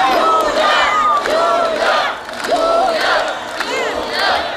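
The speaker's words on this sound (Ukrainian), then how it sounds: "зриваючи шквал овацій" A large crowd at a political rally cheers and roars in a sustained ovation as a party leader takes the stage, with shouted chants and whistles rising in waves, loud and close throughout.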